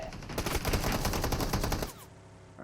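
Rapid automatic gunfire in the mobile battle royale game BGMI rattles loud and close in a dense burst for about two seconds, then cuts to quiet ambience.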